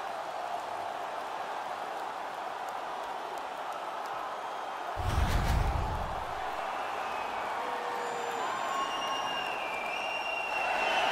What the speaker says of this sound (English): Now they're really loud in their support.